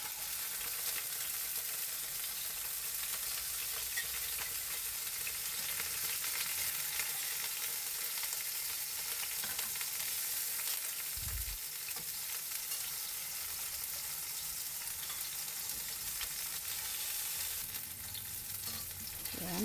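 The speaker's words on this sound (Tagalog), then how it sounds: "Then, same wok, i-fry din natin ang ating hard tofu." Hard tofu frying in a wok until golden brown: a continuous, even sizzle of hot oil close by, with a brief low knock partway through and no voices.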